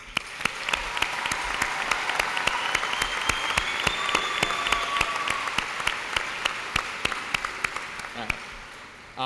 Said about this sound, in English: join me in a round of applause for the class 2016